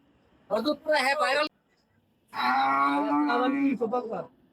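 Cattle at the Hazratpur cattle market in Bangladesh, where one long, loud, low moo rings out close by after a short burst of talk.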